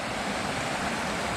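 Deep Creek in the Great Smoky Mountains rushes past in a steady, full hiss of flowing water, loud and close, continuous for the whole moment with no voices.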